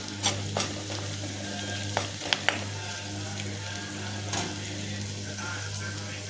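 Ginger and spices fry in hot oil for tempering, giving a continuous sizzle over a steady low hum, with a few sharp clicks and taps from utensils scattered through.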